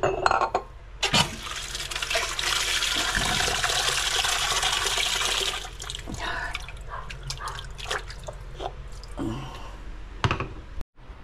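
Water running into a container to soak items: a loud, steady rush for about five seconds, followed by scattered drips, splashes and light clinks.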